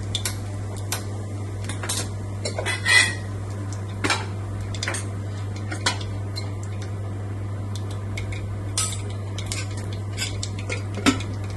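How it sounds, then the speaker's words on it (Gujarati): Mustard seeds and cumin sputter in hot oil, giving scattered sharp pops and crackles over a constant low hum, near and fairly quiet. "તેલ ગરમ થઈ ગયું છે એટલે આપણે એમાં રાઈ અને થોડું જીરું નાખીશું."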